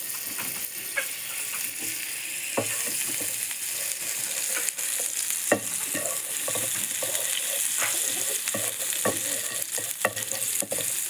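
Butter melting in a hot pan after toasting bread, giving a continuous close, even sizzle with frequent scraping and clicking taps of a utensil stirring against the pan, and no voices.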